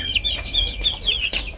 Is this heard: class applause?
no